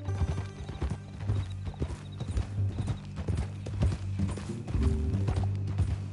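Horse hooves clip-clop at a steady walking pace in the Western video game Red Dead Redemption 2, close and continuous over a low humming game background, with a brief whinny.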